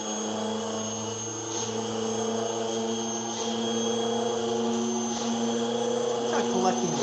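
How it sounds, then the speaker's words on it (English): Motors spinning up in a lab, a steady layered whine with several sustained tonal hums that hold level and build slightly toward the end, with faint background activity. "So the motors right now are spinning up."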